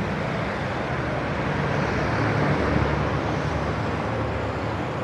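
Road traffic at midnight hums as a steady, moderately distant wash of engine and tire noise, with low rumbles from passing vehicles and no clear talk.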